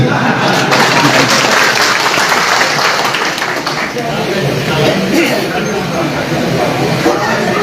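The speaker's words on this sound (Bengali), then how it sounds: "এটা বলছি বলে একটু হাততালি করুন নাকি" Crowd clapping at a political speech, loud and sustained with chatter mixed in, a dense wash of hands that runs the whole stretch and eases slightly midway.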